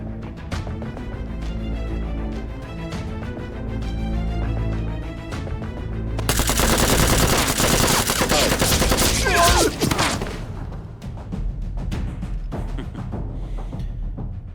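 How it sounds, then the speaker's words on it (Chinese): Gunfire in a film scene of special forces facing an attack near a refugee camp, a dense volley of shots rising over a tense musical score and continuing for several seconds before fading back into the music. "难民营里的人刚才向我们开火了"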